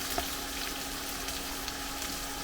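Cooked, drained noodles for prawn chow mein frying in a pan, a dense, continuous, even sizzle, close and loud with no voices.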